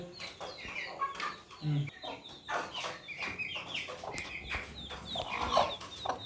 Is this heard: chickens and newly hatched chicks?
yes